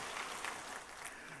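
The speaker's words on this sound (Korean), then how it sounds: "우리 박수 치시면서 환영하시겠습니다." A church congregation claps in welcome during a Sunday worship service, a brief, fairly soft burst of mixed clapping across the room.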